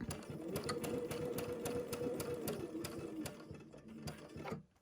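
A sewing machine stitching butterfly quilt fabric, a fast steady needle chatter running near and continuous before slowing and stopping at the end.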